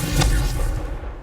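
A Bombarda spell explosion in Hogwarts Legacy gameplay lands as one short, heavy boom. The burst is loud and close, then fades into a rumbling tail.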